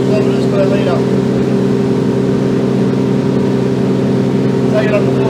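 Outboard engine on a Seaking Hunter 720 boat held steady at 4600 rpm at about 52 km/h, a loud constant drone with water rush, a voice talking briefly over it.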